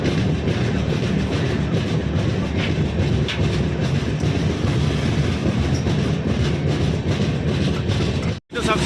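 A train rolls steadily past near Visakhapatnam railway station in Andhra Pradesh, its loud continuous rumble and clatter of wagons filling the scene until a brief drop near the end.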